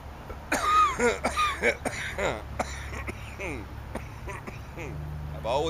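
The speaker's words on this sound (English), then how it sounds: "I've always coughed all my life." A person coughs repeatedly in short bursts at a train station in Parksville, Vancouver Island, with a low background hum beneath the harsh, close coughs.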